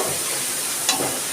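Coriander powder, spices and a splash of water hit hot oil in a pan for bitter gourd and pea dal, producing a steady broadband sizzle with a brief louder hiss burst near the end.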